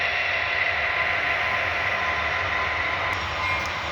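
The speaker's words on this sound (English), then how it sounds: "4031, a KCS SD70 Ace in Southern Belle. Also with loc sound." A model KCS SD70ACe diesel locomotive with onboard sound gives a steady diesel rumble with a constant mechanical hum, even and moderately loud, with no pauses.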